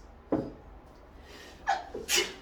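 A quick sneeze bursts out nearby, followed by a sharp snort or a second sneeze in a quiet room.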